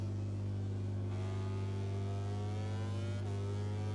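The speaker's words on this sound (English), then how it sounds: "Amir Tahifa on board the Gresini Ducati has gone down through the long radius turn 11, headed to turn 12, 13 and 14" A Ducati motorcycle engine in the racing video game MotoGP 24 drones steadily at high revs with rising and falling pitch, at moderate level without a break.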